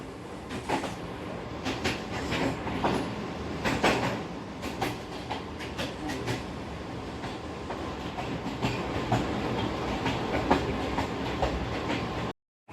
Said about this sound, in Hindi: लोकोमोटिव है जी हमारा 9027, जिसको लीड कर रहे हैं आज मोहम्मद यासीन